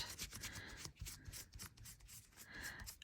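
Soft rubbing and scraping of a cloth against aluminium metal tape on a hard surface, repeated in short strokes, close and quiet.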